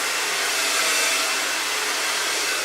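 A hair dryer blow-drying hair for a second-day styling routine, a steady, loud, close whooshing roar that holds evenly throughout with no speech.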